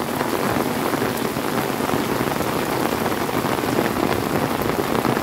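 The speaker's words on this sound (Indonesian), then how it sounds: "Dan alhamdulillah juga ini pas hujan tiba ya." Heavy rain falls steadily in a village setting near rice fields, a dense, even hiss of drops on surfaces that stays constant throughout, close and fairly loud, with no speech.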